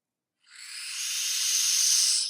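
A Halloween-scene spider sound effect: a breathy, airy hiss that swells in after a moment of silence and holds steadily, close and moderately loud, with no voices.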